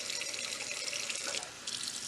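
A bathroom tap runs steadily as a makeup brush is swirled under the stream to rinse soap from its bristles, a close, continuous hiss of water with slight splashing shifts as the brush moves.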